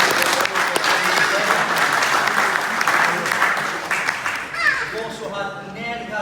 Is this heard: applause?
yes